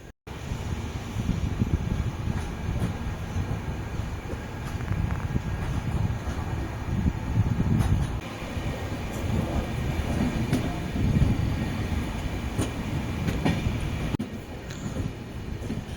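Puducherry Yesvantpur Express running on the route out of Vriddhachalam toward Salem, heard as a steady low rumble with faint clanks and rattles throughout, no talking.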